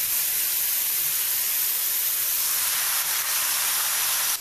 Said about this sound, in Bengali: এই যখন ভেজে নিচ্ছি